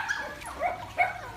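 A dog at a dog park gives a few faint, short yips and whimpers, two or three quick high cries heard from a little distance.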